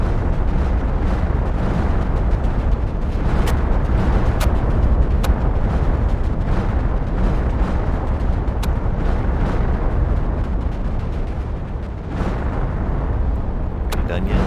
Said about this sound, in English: So that's the lovely super meteor attack.